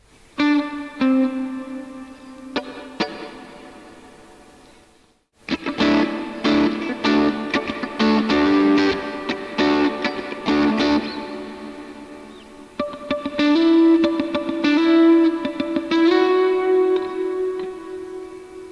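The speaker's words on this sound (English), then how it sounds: "let's switch off the delay for a second and just hear the reverb by itself" Electric guitar played through a Line 6 Helix with a long, not very bright reverb trailing each note, starting with a few picked notes, a brief pause, then fuller strummed chords and melodic lines ringing out, with no voices.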